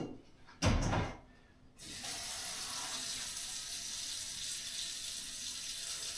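Cold tap water runs steadily into a cooking pot in a home kitchen, a continuous hissing rush that follows a short burst of clatter near the start and holds level to the end.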